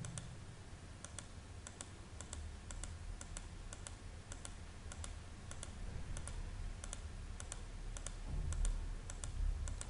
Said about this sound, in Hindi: क्लिक करते जाएं आप।